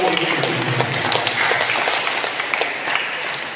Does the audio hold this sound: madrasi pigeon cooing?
no